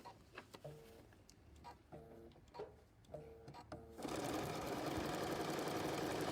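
Sewing machine stitching paper-pieced hearts at a short stitch length, a few faint clicks and handling noises first, then a sudden steady loud run of stitching close by.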